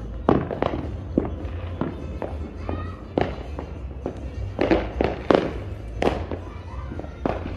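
Neighborhood Fourth of July fireworks and firecrackers on the east side of Las Vegas, heard from a backyard: many sharp cracks and pops in irregular bursts, some close and loud, others farther off, over a steady low rumble.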